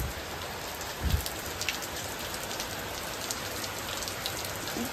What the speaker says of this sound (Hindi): बारिश होने लग गया दोस्तों, छन छन छन छन बारिश हो रहा है।